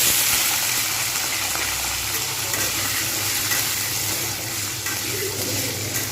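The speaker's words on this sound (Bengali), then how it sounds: "আলুগুলো একটু জাস্ট ভেজে নেবো" Potatoes frying in a pan for a papaya curry give a steady, close sizzle with a hiss and bubbling, like water running. It holds evenly throughout with no talk.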